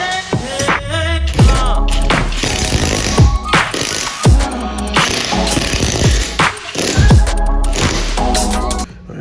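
Engine mount bolt on a 2007-2009 Mazdaspeed 3 being driven tight with a powered tool, loud hammering rattles in repeated bursts with brief pauses between, close and harsh, no talking.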